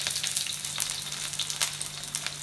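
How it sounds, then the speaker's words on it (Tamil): Shallots sizzle and crackle steadily in hot oil, the first step of a Chettinad crab masala, giving a close, continuous frying hiss with scattered pops. "முதல் சின்ன வெங்காயம் போடுறோம்"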